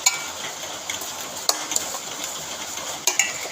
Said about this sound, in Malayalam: നെയ്യിൽ കിടന്ന് നമുക്ക് ഈ പാലട മിക്സിനെ ഒന്ന് അല്പനേരം വരട്ടി കൊടുക്കാം.